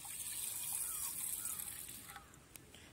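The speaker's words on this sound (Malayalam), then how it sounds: "വെള്ളം ഒഴിച്ചു കൊടുക്കുക." Water poured from a tap or jug into a bowl of fenugreek seeds, a soft steady gushing splash that runs for a few seconds, close and fairly quiet, with no talk over it.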